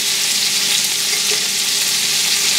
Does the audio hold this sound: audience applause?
no